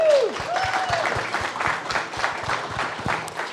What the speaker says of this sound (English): a round of applause for Mark.